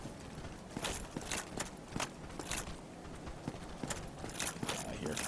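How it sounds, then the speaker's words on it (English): Footsteps in a video game, a run of irregular clip-clop steps landing roughly every half second, moderately close and fairly quiet against a low background. "I hear footsteps."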